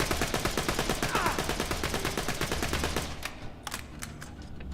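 Blackoff gun in Borderlands 2 fires in aimed mode: a rapid, loud burst of evenly spaced shots for about three seconds, followed by a few scattered, fainter reports.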